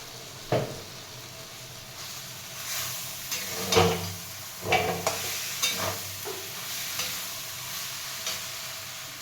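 Okra fries in a pan as a ground mustard-chili paste goes in for bhindi paturi, a low sizzle punctuated by several clattering stirs and scrapes of a utensil against the pan.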